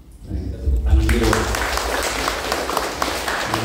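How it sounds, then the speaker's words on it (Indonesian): An audience at an Open University (UT) Pontianak cooperation ceremony bursts into loud, sustained applause that fills the room. A voice speaks briefly at the start, just as the clapping swells. "kita tepuk tangan dulu"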